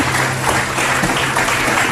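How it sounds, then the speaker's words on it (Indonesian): A studio audience at a television talk show claps loudly and steadily, a dense close wash of applause that runs unbroken for the whole short moment. "Boleh tepuk tangan dulu."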